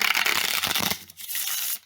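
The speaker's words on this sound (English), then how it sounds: "So let's say that you shuffle them up." A deck of playing cards is shuffled by hand, a loud close riffle of papery flicking and rubbing that breaks off and returns once before stopping, with no talking.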